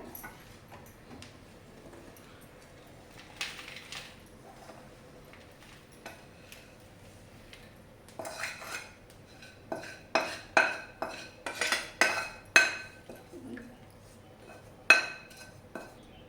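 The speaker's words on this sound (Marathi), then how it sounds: "ज्या ताटामध्ये थापणार आहे आपण बघा त्याला असं तुपाने थोडं ग्रीस करून घेऊया आणि पूर्ण मिश्रण ते आता ताटात घेऊया" A spoon scraping and clinking against a ghee-greased steel plate as dink vadi mixture is transferred, quiet at first, then a rapid run of sharp metallic taps and scrapes.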